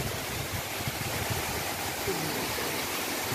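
Ng Tung Chai main waterfall pours with a full, steady roar of rushing water that fills the whole span evenly and continuously, heard close by with no pauses.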